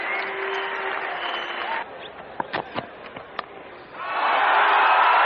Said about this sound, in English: Michael Slater leading the applause from the rooms.